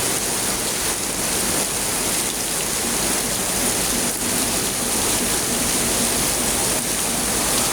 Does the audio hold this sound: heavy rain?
yes